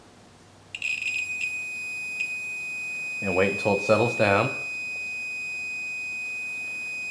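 A digital multimeter emits a steady, continuous high-pitched beep while its probes test an automotive ignition coil pack; the tone holds for several seconds as someone speaks briefly over it.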